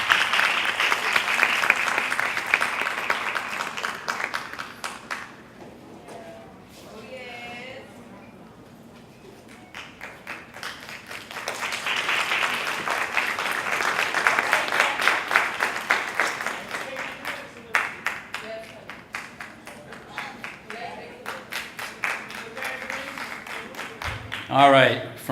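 Applause swells and fades in waves for a salutatorian at a school board meeting, a dense patter of many hands from a seated audience, with quieter stretches and voices murmuring in between.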